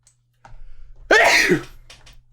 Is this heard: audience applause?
no